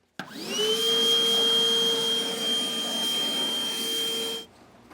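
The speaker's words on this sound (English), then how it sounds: "Now we can vacuum" A vacuum cleaner switches on abruptly and runs with a steady loud whine and rushing air for about four seconds, then cuts off, with no talking.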